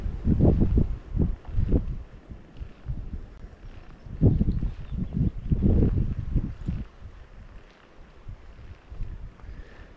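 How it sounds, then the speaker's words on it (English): Gusts of wind buffet the microphone in uneven low bursts, rising and fading irregularly against a quiet outdoor background by the River Bladnoch. "It's been a windy day"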